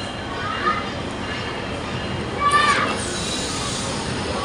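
A new meter gauge intercity passenger express train pulling into a station platform on the Dhaka to Cox's Bazar route, a steady broad rumble with a brief metallic wheel squeal midway, while voices talk in the background.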